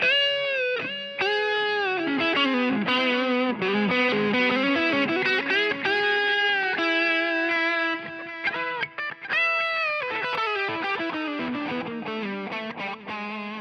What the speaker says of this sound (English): Click the digital delay on again. So a lead could sound, something like this.